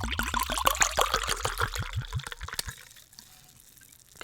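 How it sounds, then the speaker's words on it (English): Red wine glugs from a bottle into a glass in a quick run of rising gurgles, close and clear, ending with a few drips and then quiet. "Let me pour this wine out, please."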